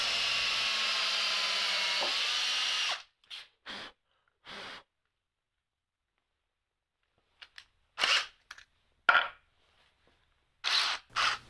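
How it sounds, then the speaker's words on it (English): A power drill with a countersink bit whirs steadily for about three seconds pre-drilling screw holes in reclaimed plywood, then several short bursts follow with quiet gaps between them. "And then I would pre-drill for the screws here with a countersink bit."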